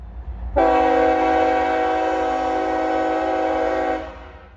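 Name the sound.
CSX Chessie 1973 locomotive with train horn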